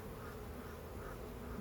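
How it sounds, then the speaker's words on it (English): Honey bees drone steadily at an open hive during a spring inspection, a faint continuous buzz with no voices. "there's a huddle of bees on the top"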